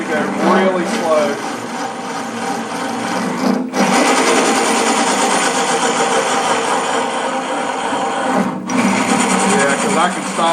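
A Vevor mini lathe's underpowered motor runs while cutting, a loud, steady high whine with a grinding edge that dips briefly twice, heard close with no talk over it.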